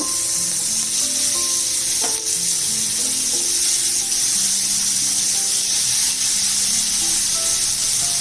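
Prawns frying in hot oil on a tawa, giving a constant loud sizzling hiss with a faint background hum and one brief clink, close and unbroken.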